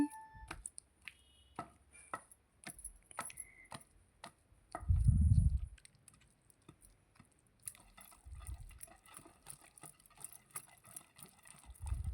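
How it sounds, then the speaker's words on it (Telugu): Garlic cloves are pounded with a pestle in a stone mortar while a brinjal and tomato chutney is made: sparse, sharp knocks at an uneven pace, with a heavier grinding thump midway and softer taps later. "అందులోనే నాలుగు వెల్లుల్లి రబ్బలను వేసుకొని దంచుకోవాలి"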